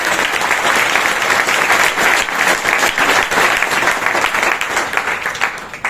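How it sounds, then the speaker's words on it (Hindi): Loud, sustained applause from a seminar audience in Rohtak, a dense wash of many hands clapping steadily for about six seconds with no pause and no speech. "एक बार क्लैपिंग जोरदार होनी"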